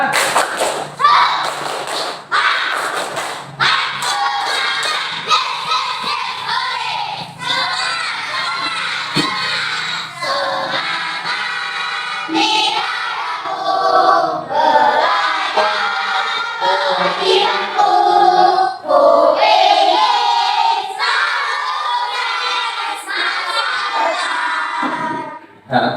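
A class of schoolchildren claps the rhythmic 'tepuk semangat' chant together, loud and close, with sharp repeated claps mixed with their shouting voices throughout.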